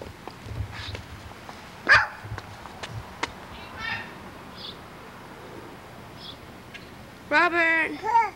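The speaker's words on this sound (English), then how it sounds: "Look at the puppy, Robert." Several sharp dog barks from a puppy ring out at intervals, with a louder cluster near the end, over quiet background and faint children's voices at a distance.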